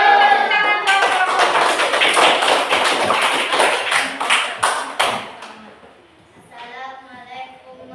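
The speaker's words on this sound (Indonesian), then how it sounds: "Beri tepuk tangan kelompok" A classroom of students claps for a student group, a loud, steady burst of applause that fades after several seconds, followed by quieter room sound and a voice.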